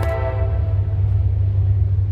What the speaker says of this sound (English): a train going off